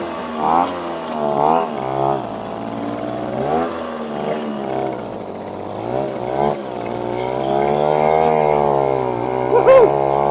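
Casal K197 moped engine from Portugal runs loudly and steadily, its pitch rising and falling with repeated revs, then settling into a sustained high buzz with a brief sharper burst near the end.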